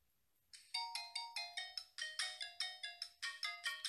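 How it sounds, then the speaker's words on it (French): A Socoole W08 smartwatch plays its notification ringtone, a rapid run of bright, tinkling electronic chime notes repeating in a quick rhythm, clean and close, with no talk over it. "voilà le type de sonnerie pour la notification"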